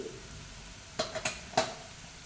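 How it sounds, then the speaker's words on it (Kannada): Chili powder and garam masala frying in a pan for paneer curry: a faint, quiet sizzle broken by a few sharp clinks and scrapes of stirring in quick succession. "ಇವಾಗ ಇದರಲ್ಲಿ ಚೆನ್ನಾಗಿ ಫ್ರೈ ಆಗಬೇಕು ಮಸಾಲೆ"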